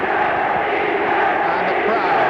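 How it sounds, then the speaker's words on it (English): A large football crowd at an England versus Scotland match in 1967 roars and cheers England in a steady, continuous wash of massed voices, with a commentator talking over it. "the crowd cheering England now, trying to get some action"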